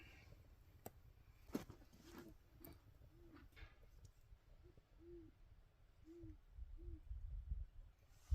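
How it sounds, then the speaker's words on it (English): An owl hoots at night during a freezing winter camping trip, a series of soft, low, evenly spaced hoots repeating for several seconds against faint background rustle and low rumble. "Do you hear the owl?"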